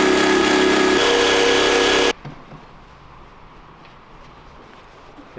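A drill-driven toffee wheel strips badge adhesive from a BMW X3, whirring loudly and steadily for about two seconds before cutting off abruptly into quiet room sound.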